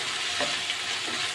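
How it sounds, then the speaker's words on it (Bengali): Ginger garlic paste frying with dried Loitta fish and onions in a pan, a steady close sizzle with faint stirring scrapes, no talk. "আদা রসুনটা আমি ভালোভাবে ভেজে নেড়ে চেড়ে নেব।"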